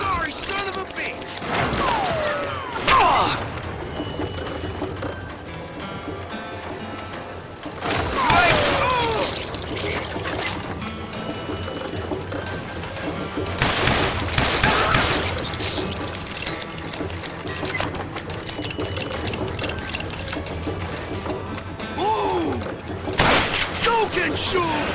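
Rapid bursts of gunfire in the Western shooter Call of Juarez: Gunslinger, several loud volleys spaced through the stretch with mechanical clicks and reloads between them, over a constant game soundscape with voices.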